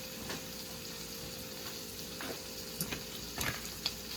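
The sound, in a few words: chorizo frying in pan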